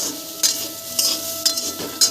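Potatoes frying in a pan, a low sizzle under four evenly spaced scraping strokes of a utensil stirring them, close and fairly loud, no talking.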